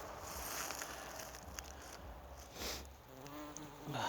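Bees buzz faintly and steadily among blueberry bushes while pollinating, a soft continuous drone with a few slightly nearer passes.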